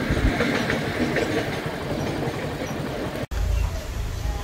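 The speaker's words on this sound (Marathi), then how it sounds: "लागलेला फाटक ट्रेन आले" A train rumbles past a railway crossing at close range with steady clattering wheels, loud and continuous, cut by a brief dropout before the low rumble resumes.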